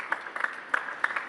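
Sparse, scattered clapping from a small crowd of locals at a table tennis match during the ITTF Mixed Team World Cup 2025: a handful of separate claps, moderately near, with no cheering.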